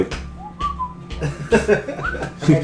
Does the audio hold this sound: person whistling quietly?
yes